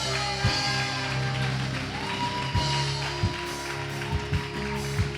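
A church congregation at a Sunday service applauds in praise, with sustained clapping under organ or keyboard chords and several sharp louder taps standing out.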